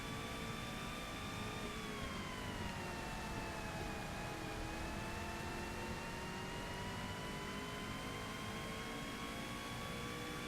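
Race car engine in Forza Motorsport holding a steady high-pitched whine at sustained revs, with harmonics dipping slightly midway and rising again, loud and continuous for the whole stretch with no talk.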